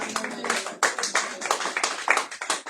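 A church congregation applauding the Lord, loud, brisk, uneven clapping from many hands that continues steadily throughout.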